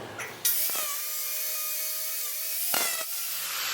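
A flap disc grinder strips rust from a steel plate, a loud close high-pitched whine grinding steadily for a few seconds, with brief spin-up at the start and a short dip near the end.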